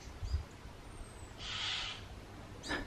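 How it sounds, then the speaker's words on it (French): A crow calls in a garden, two short harsh caws standing out over a quiet outdoor ambience with faint background noise. "il y a un corbeau qui vient tout gâcher"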